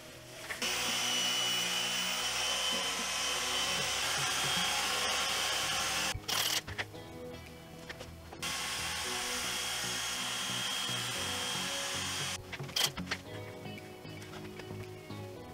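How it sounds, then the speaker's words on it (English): A polishing machine buffing car paint sanded to 3,000 grit, a steady loud whirring drone that runs continuously, breaks off briefly twice, and resumes, with no talk over it. "now we're gonna go on to buffing and polishing"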